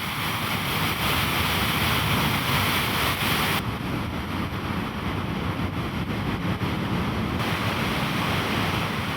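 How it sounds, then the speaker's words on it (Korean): Trümmelbach waterfall in Switzerland thundering inside a mountain cave, a dense, continuous roar of pounding water that stays loud and unbroken throughout. "폭포물이 험상궂게 쏟아지고 동굴내의 우레 같은 물소리가 두려움마저 느끼게 했다."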